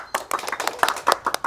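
A small group clapping hands on a comedy stage, a quick irregular patter of close, crisp claps lasting under two seconds.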